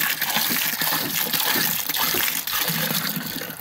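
Water gushes and splashes steadily as it is poured or filled into a container, loud and close, with a brief break near the end.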